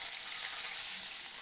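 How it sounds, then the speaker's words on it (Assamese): Pieces of local swamp eel fry in hot oil with turmeric and spice mix, a steady, dense sizzle close by with no talk over it. "অলপ ক'লা কৰি ভাজি লওঁ কুচিয়াখিনি"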